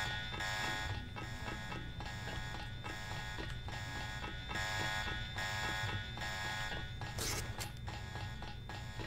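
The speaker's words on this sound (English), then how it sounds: "Also, I'm going to set off the alarm again," An alarm in the video game Deus Ex Revision blares continuously in a steady, pulsing electronic tone over mechanical hum, with a brief sharper burst near the end.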